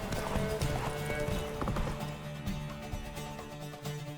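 Roach, the horse in The Witcher 3, gallops with steady, rapid clip-clop hoofbeats, up close and loud, over a busy game soundscape with brief whinnies.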